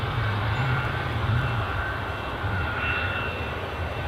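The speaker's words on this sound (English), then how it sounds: "Aer Lingus ATR 72" An Aer Lingus ATR 72 turboprop arriving from Belfast on final approach at Edinburgh airport, its engines a steady broad droning roar with a low hum, heard continuously from a distance without talk.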